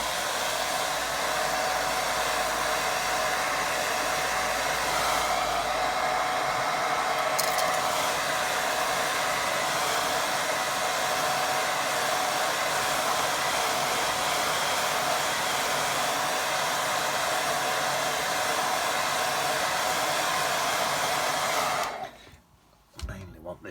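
Hair dryer blowing on a watercolour painting, a close, steady whooshing roar running almost unbroken for over twenty seconds before cutting off near the end.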